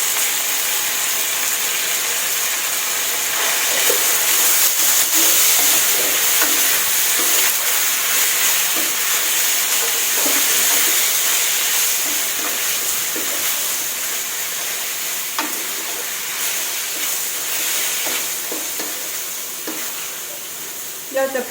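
Hokkien noodles stir-fried in a pan: a loud, steady sizzle with constant scraping and tossing of the spatula throughout.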